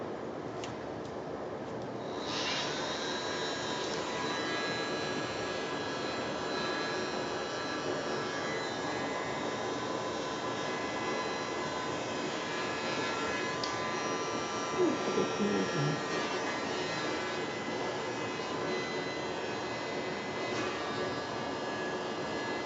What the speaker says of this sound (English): I'm going to try this blower again.